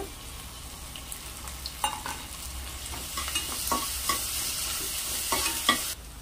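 Ginger-garlic paste frying in a pan for homemade panipuri, a continuous close sizzle broken by repeated scraping stirs of a spoon against the pan, with no one speaking.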